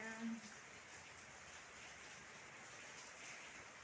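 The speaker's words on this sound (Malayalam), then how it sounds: "നല്ല മഴ കേട്ടാ. നല്ല മഴ എന്ന് വെച്ചാൽ നല്ല മഴ." Heavy rain pours steadily as a dense, even hiss that fills the whole stretch at moderate level, with a brief voice at the very start.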